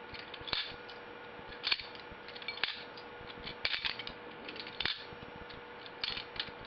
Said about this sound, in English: grab that latch handle, that latch, drop and swing